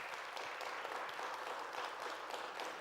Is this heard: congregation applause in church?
yes